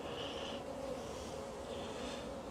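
Honey bees buzz around an open hive as a beekeeper adds a brood box, a close, continuous droning hum with individual bees swelling louder as they pass near.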